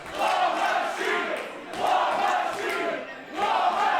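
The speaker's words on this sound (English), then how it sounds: "And it's turned into a War Machine chant." Wrestling crowd at a GWF Legacy show chanting in unison, a rhythmic repeated chant swelling in three waves from a packed arena audience, loud and close with no talk over it.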